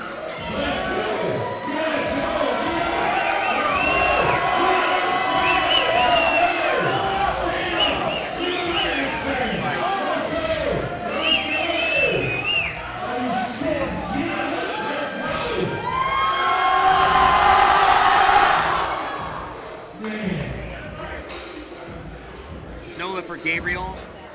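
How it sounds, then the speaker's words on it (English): A crowd at a drug-tested powerlifting national championship cheers and shouts through a deadlift national record attempt, loud sustained roar swelling to a peak before fading, with voices mixed throughout. "Our crowd was very hyped to watch that."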